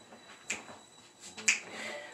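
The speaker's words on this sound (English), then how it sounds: "I'm tapping my, snapping my fingers with it" Two crisp finger snaps about a second apart during a gospel music workout, sharp and close, with faint music in the background.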